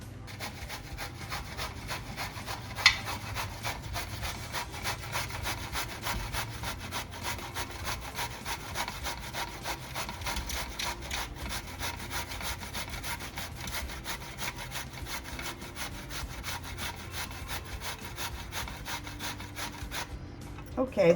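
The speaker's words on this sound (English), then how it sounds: "And that should be enough to grate." Zucchini being grated by hand for nut muffins, a steady rapid rasping scrape repeated continuously and close up, with a brief knock near the start and a clatter at the end.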